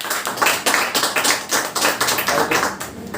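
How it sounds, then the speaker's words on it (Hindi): Seminar audience in a Hindi-language classroom session claps loudly together, a dense, steady burst of applause lasting a few seconds with no talking over it. "चलिए एक बार जोरदार ताली बजाइए"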